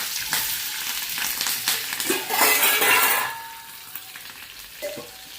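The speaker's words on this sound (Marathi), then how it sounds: "त्यामध्ये हिरवी मिरची टाकून घेऊया" Green chillies dropped into hot oil for a dhokla tempering, a loud close sizzle that swells for a moment then settles to a softer fry, with a spoon clinking against the pan as it is stirred.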